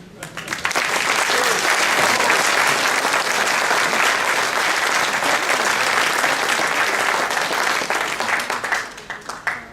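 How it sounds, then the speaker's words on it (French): A crowd at a French town ceremony bursts into loud, sustained applause that swells quickly, holds dense and steady, then thins out toward the end. "je sens que beaucoup de personnes ici ont envie de vous applaudir ce soir"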